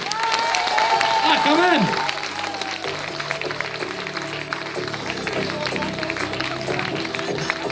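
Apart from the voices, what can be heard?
audience applauding students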